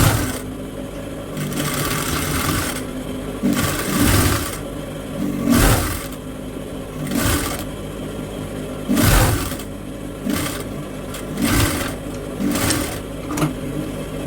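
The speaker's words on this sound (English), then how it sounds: "So you just place it like this on your sewing machine and you join." A sewing machine stitches Aso-Oke fabric pieces together in loud, close bursts of rapid mechanical whirring, stopping and restarting several times with brief pauses, alone without talk.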